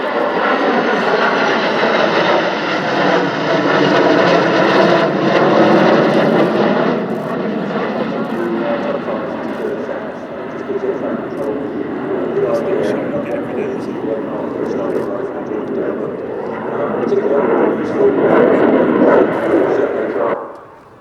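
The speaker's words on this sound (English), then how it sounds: "the Czech Gripen then, the first to roll out, demonstrating its special marking" Czech Air Force Saab Gripen jet at the RIAT 2024 airshow, a loud sustained roar that swells and eases over about twenty seconds, with an announcer talking over it.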